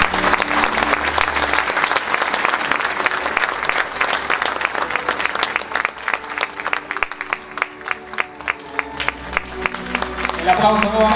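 Audience applause at a city distinctions award ceremony in La Ligua: sustained, full clapping from a crowd, thinning toward distinct individual claps before swelling again, with a voice speaking over it.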